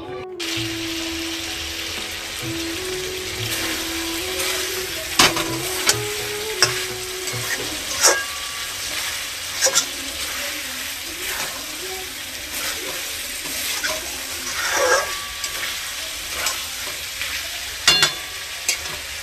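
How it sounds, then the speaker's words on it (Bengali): Chicken sizzles and is stir-fried in a pan for chicken biryani, with repeated scraping and clanks of the spatula over a constant frying hiss, close and fairly loud, with occasional light speech. "তো চিকেনটাকে ভালো করে বেশ কষিয়ে নিলাম"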